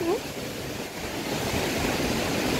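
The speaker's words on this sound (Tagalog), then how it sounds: "Grabe ang lakas po ng hangin." Strong typhoon wind roars in a broad, unbroken rush around a house during a storm, loud and close with buffeting on the microphone and no speech.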